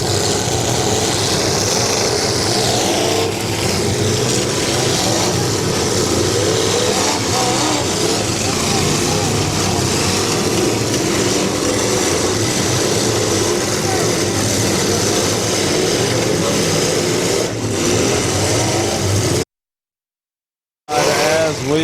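Derby car engines roar and rev continuously as the cars slide around a corner on a dirt track at a bash-for-cash demolition derby, loud and steady with crowd and announcer noise mixed in, then cutting to brief silence near the end.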